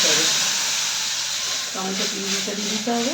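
Tomato puree hitting a hot pan for butter paneer, a loud, steady steamy hiss and sizzle that carries the whole time under a voice talking.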